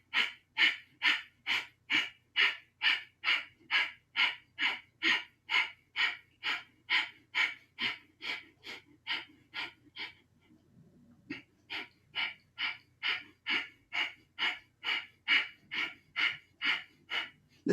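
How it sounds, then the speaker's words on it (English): Breath of fire, the rapid rhythmic breathing of kundalini yoga: about thirty quick, evenly spaced forceful exhales through the nose, close and alone, with a short pause midway before the pumping rhythm resumes. "And begin breath of fire."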